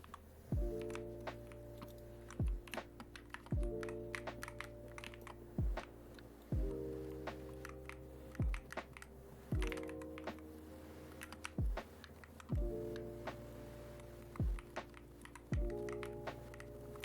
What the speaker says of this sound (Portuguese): não parece ser um teclado tão barulhento assim